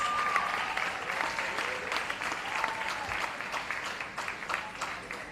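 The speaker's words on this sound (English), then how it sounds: "please give her a big round of applause" Steady audience applause at a performing arts awards ceremony, dense continuous clapping from a crowd holding an even level for several seconds, with scattered louder claps and a faint tone underneath.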